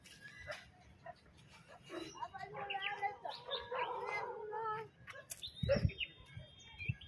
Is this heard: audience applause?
no